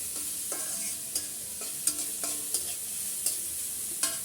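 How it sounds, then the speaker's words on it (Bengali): Food frying lightly in a pan with salt added, a soft continuous sizzle under regular scraping and tapping of a spatula against the pan, close and moderately quiet. "ভালো করে একটু যেন কাঁচা গন্ধটা চলে যায় একটু ভেজে নিচ্ছি হালকা"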